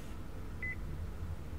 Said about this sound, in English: because I've got this motion tracker now, and it's always just going to sit here and go beep, beep, beep whenever there's people around